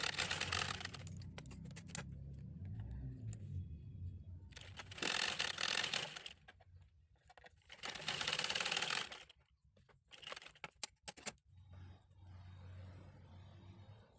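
Sewing machine stitching a ribbon strip along both edges for a blouse, running in loud bursts of steady mechanical whirring separated by quiet pauses and small clicks, no talking.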